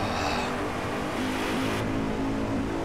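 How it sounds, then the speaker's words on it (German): A Nissan GT-R NISMO in the DRIVECLUB racing game loses grip and slides out while overtaking, with a loud continuous engine drone and shifting revs throughout. "Mir ist das Auto ausgebrochen beim Überholen!"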